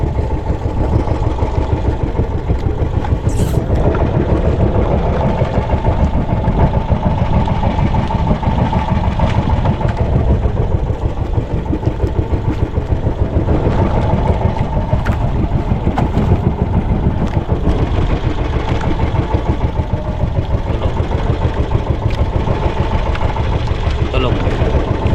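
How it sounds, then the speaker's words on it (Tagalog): A boat motor churns steadily at sea close by, a continuous low chugging drone that runs throughout, with people talking over it. "May motor pa dun, oh."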